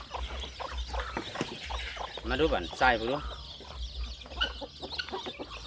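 Chickens cluck and chatter close by with a few sharper squawks on a farm where ducks are also fed, while a person talks over the flock and a low hum runs underneath.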